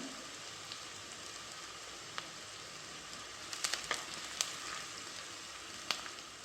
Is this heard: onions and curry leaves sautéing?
yes